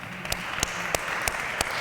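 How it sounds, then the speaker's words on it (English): Thin, scattered clapping from a small panel audience, a few distinct claps landing at a steady spacing over a soft room hiss, faint and short-lived. "that's a 10 of applause."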